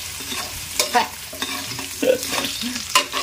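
Potatoes sauté in a pan as the start of chicken adobo: irregular scraping and clattering stirs over a continuous frying sizzle, close and fairly loud, with no talking.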